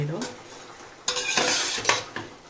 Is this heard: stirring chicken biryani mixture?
yes